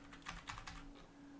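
Quick keystrokes on a computer keyboard while someone types into Windows Notepad: a brisk run of light clicks with a few louder clusters, close and fairly quiet, with no talk.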